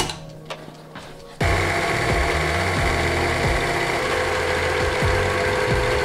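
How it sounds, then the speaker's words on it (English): A sewing machine starts after a quiet moment and runs continuously, stitching rib lines into a motorcycle seat cover for a Puch Magnum X moped, a loud close rapid whirring with slight rhythmic variations as it sews. "Now we want to start sewing these lines, and those are what's going to make the ribs in the top of the seat."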